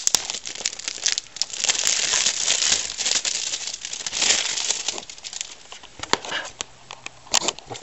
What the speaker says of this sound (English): Taking out the plastic wrapping.